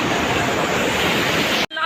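A strong water current rushes loudly and steadily, a dense roaring wash close to the microphone, then cuts off abruptly near the end.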